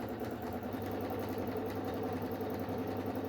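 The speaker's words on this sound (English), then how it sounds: "I'm going to just go ahead and start sewing here" Sewing machine running steadily as it stitches fabric, a low continuous motor hum with a fast, even needle patter, moderately quiet and heard alone.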